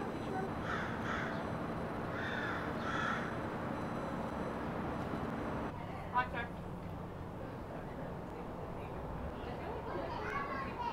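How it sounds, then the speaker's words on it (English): A talking raven at the wildlife center of the Cleveland Natural History Museum gives several short, harsh, speech-like calls in bursts at close range over a low background murmur. "a raven who can speak his own name"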